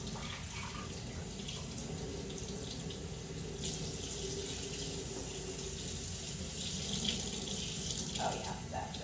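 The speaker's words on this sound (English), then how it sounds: "Running that under cold water to stop the process of cooking, because it is done." Cold tap water runs steadily over cooked rice noodles in a kitchen sink, a constant splashing hiss with small shifts as the noodles are moved under the stream.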